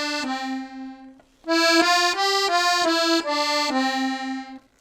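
Accordion plays a short playback exercise alone, a run of sustained reedy notes that step up and back down, starting softly with two held tones, then swelling louder for a lively phrase of several distinct notes before settling on a final held note.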